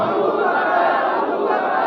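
A large gathering of Muslim worshippers chants a religious slogan in unison at a gathering honoring Abu Bakr Siddiq, a dense, loud, continuous roar of massed voices.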